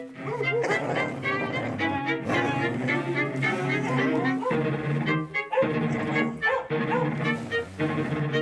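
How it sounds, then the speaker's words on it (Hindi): Several dogs bark and yelp in a quick, overlapping burst in a dubbed South Indian horror film, loud and close, with short gaps between rough volleys. "अपने डॉग्स भी वही देख करके भौंक रहे हैं।"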